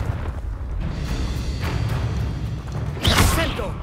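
Confringo fire blast spell cast in Hogwarts Legacy, a bright whooshing burst near the end rising over a steady low rumble of game ambience and combat noise.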